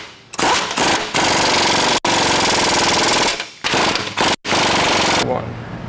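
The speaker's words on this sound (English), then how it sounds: "go ahead and tighten all your differential hardware and your crossmember hardware" Impact tool rattling hard on truck differential and crossmember bolts during a 4-inch lift install on a 2019 Chevy 1500, loud close bursts of hammering broken by short pauses.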